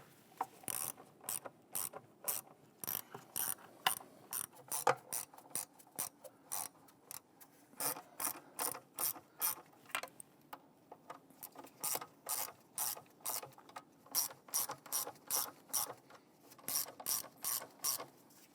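A ratchet tightens intake bolts on a 2011-2021 Jeep Grand Cherokee, giving close, crisp bursts of rapid clicking in repeated strokes with short pauses between them, alone and without talk.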